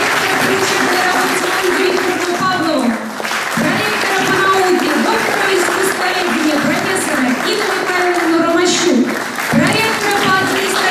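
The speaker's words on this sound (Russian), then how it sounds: "Аплодисменты." Applause fills a hall at an anniversary celebration of an academic choral conducting department, sustained loud clapping from a large audience with a voice speaking over it at times.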